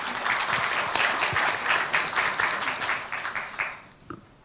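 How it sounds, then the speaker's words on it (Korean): An audience at a history lecture in Korea breaks into dense, sustained applause, many hands clapping together and then tapering off and fading out near the end. "박수 부탁드리겠습니다."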